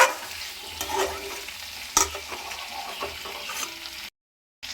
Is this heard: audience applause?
no